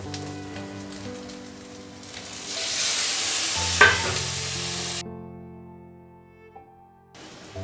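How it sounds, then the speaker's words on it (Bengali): Ginger, garlic and onion fry and get stirred in a pan, then grated tomato goes in; a steady sizzle swells louder midway before cutting off sharply, with scraping stirs and no talk. "আদা রসুন পেঁয়াজটা ভালো ভাজা হয়ে গেছে, এবার এর মধ্যে দিয়ে দেব গ্রেট করা টমেটো"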